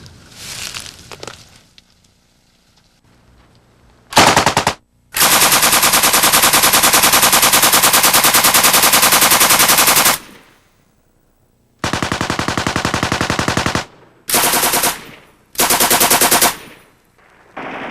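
An M60 machine gun in 7.62 NATO firing several long sustained bursts, loud and close, with a dense rapid rattle separated by short silent pauses.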